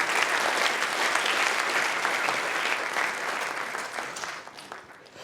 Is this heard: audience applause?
yes